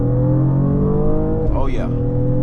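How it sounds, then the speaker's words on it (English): A 2024 Mercedes-Benz AMG GLE 53 drives at night with a loud, steady engine and exhaust drone heard from inside the cabin, while a voice briefly talks over it. "I like how that muffler back there is just giving off that sound, that aggressiveness."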